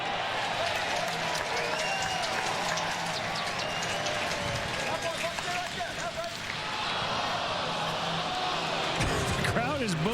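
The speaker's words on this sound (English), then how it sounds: "The crowd is booing." A stadium crowd at a Cubs at Twins baseball game boos in a steady, loud roar that fills the whole stretch, with a broadcast commentator talking over it.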